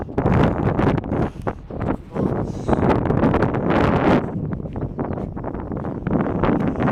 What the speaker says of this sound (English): I'll turn off the camera because it's too windy.